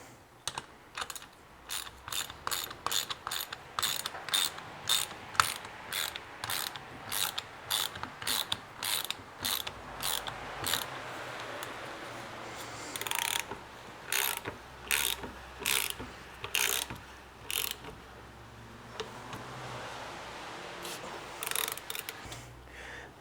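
Rapid ratcheting clicks from a ratchet wrench with a 17 mm socket tightening bolts during a BMW E46 rebuild, coming in repeated bursts of quick strokes with brief pauses between them, close and fairly loud with no talk.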